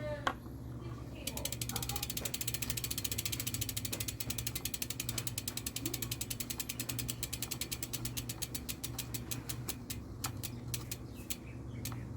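Rapid ratcheting clicks from a wrench snugging the standard bolts of a road bicycle power meter, a steady close run of pawl ticks that goes on for about ten seconds, with faint birdsong in the background.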